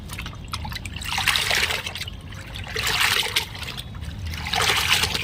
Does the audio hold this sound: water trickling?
yes